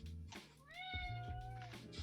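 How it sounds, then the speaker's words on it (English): A house cat gives one drawn-out, rising then falling meow, clear and fairly close, with faint background noise around it. "my cat is being obnoxious"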